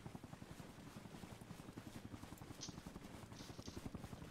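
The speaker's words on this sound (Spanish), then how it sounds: "Helicóptero." A helicopter in the Vietnam-set shooter Arma Reforger thumps with a rapid, steady low rotor beat, fairly faint and continuous, with a couple of brief higher noises over it.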